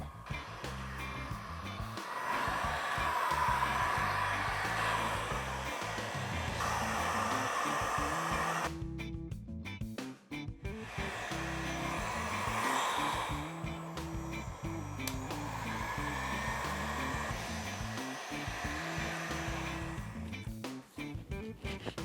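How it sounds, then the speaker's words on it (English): A heat gun blows a continuous airy roar while melting and shriveling plastic pieces over a Halloween skeleton prop, cutting out briefly partway through before resuming. "heat it up with a heat gun until it melts and shrivels"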